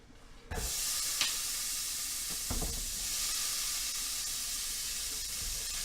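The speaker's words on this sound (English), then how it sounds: "Everything's going on hot oil. Listen to the sizzle." Loud, continuous sizzling of food frying in hot oil begins suddenly and holds steady, with a few brief clinks and scrapes.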